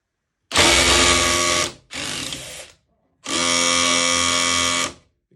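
Two cordless impact drivers, a DeWalt and a Milwaukee, run at their highest settings while straining to back out a screw: three loud, close whirring bursts with brief pauses between them, and no talking.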